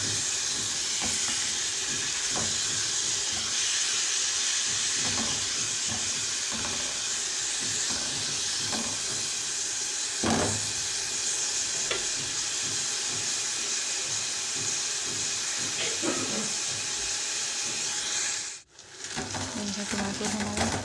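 Tomatoes frying in a pan for a cheesy pizza sandwich give a steady close sizzle and hiss with scattered stirring clicks. The sound cuts out briefly near the end.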